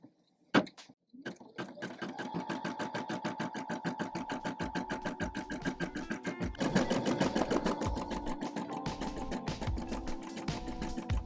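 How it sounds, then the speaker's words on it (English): An embroidery machine stitches a patch on fabric held in a hoop, giving a fast, steady mechanical rattle of needle strokes that runs close and continuous after a brief start-up. "I have attached the fabric to the little embroidery hoop. Now we're gonna clip it to the machine."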